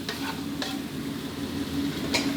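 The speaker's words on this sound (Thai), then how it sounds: "พอหมูกับไข่เริ่มที่จะสุกครับ ก็ยีให้กระจายตัวได้เลยครับ" Pork and egg being stir-fried in a pan, with a steady sizzle and hum of frying broken by a few short scrapes of the spatula stirring and breaking up the egg.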